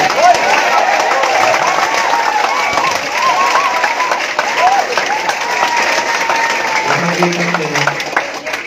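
Loud, sustained clapping from a seminar audience at a business talk, continuing throughout with a voice speaking over it.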